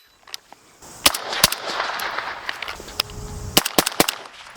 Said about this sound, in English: Let's test it for flash, and then we'll take a few rounds down range.